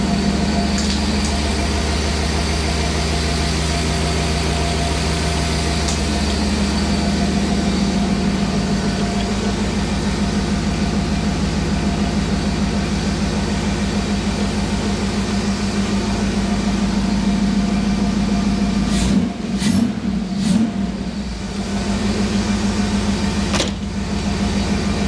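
A car engine idles steadily after starting on the first try, a constant low rumble with a brief burst of clunks and shifts near the end before settling back to an even hum.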